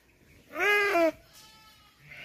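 A single loud, wavering bleat from a sheep in a sheepfold at Labdang, Sikkim, rising and then cutting off, followed by fainter bleats and low background sound.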